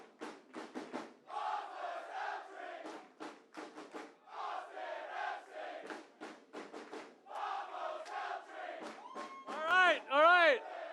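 Crowd at a Major League Soccer announcement event in Austin cheers in rhythmic bursts, chanting and roaring in repeated waves with pauses between, ending in higher whoops and whistles; fairly distant and moderately loud.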